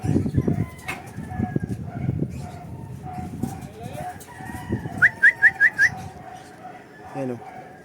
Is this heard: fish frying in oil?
no